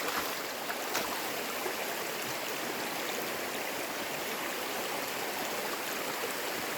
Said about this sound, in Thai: แต่วันนี้น้ำไหลน่าเล่นมากเลยครับ